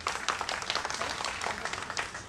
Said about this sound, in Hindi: आप अपने लिए ही तालियां बजाइए।